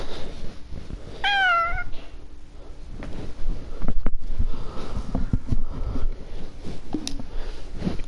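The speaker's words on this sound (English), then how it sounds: "Cat sitting next to me right in here." A cat meows once nearly, a short rising-and-falling call over a quiet room with faint shuffling and handling noises around it.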